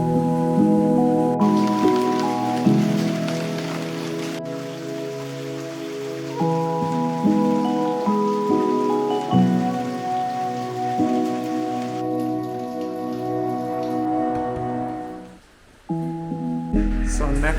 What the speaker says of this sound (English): The rain makes it so cozy.